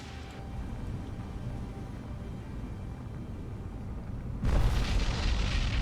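Naval gunfire and shell hits on a ship in the War on the Sea video game, a low rumbling din that erupts into a loud, sudden blast-like burst near the end, with no talking.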